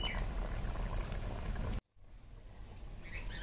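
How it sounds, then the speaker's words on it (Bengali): Fish curry gravy bubbles at a rolling boil in a pot, a close, rough bubbling hiss that cuts off abruptly for a moment before resuming more softly. "ঝোলটা ফুটে গেছে,"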